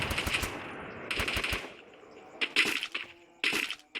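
Beretta gunfire from a shooting video game, with rapid bursts of sharp, crackling shots in several quick volleys separated by short pauses, close and loud.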